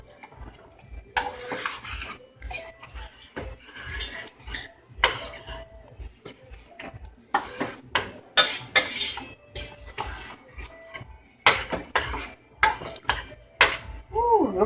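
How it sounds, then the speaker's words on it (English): A spoon scrapes and knocks against a cooking pot as egusi soup with meat is stirred. Irregular clinks and clatters come in bursts, close and fairly loud, separated by brief pauses. "And I'm going to stir."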